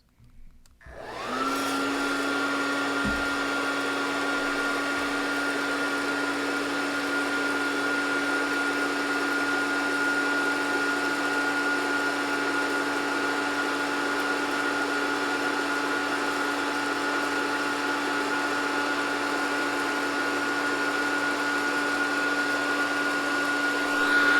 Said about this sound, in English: we'll click the Run Cool button and our machine will start